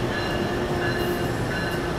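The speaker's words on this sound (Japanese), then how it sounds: "はい、こんな感じで機関車です" A loud, steady rumble of an NJ Transit locomotive idling nearby at a station, with a continuous low drone and faint mechanical hum throughout.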